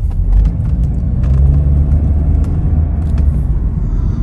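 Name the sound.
car engine rumble while stopping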